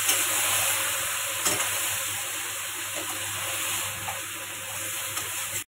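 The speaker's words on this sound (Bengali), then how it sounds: "এবার যে মাখানো মাংসটা মাখিয়ে রেখেছি ওটা ঢেলে দেবো" Marinated duck meat hits a hot pan and sizzles in a loud, steady hiss that holds close and continuous before cutting off abruptly.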